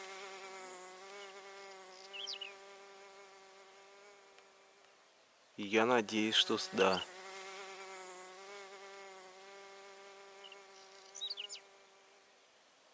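A steady, high-pitched whine of buzzing mosquitoes continues throughout, close and persistent, at very early morning during a night dig, briefly interrupted by a person speaking midway.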